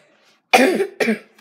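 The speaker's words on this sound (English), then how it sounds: "Sorry for my cough." A person coughs twice in quick succession, close and loud, the first cough harsher and longer than the second.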